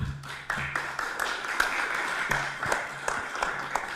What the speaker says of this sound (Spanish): Por favor, con un fuerte aplauso, démosle la bienvenida.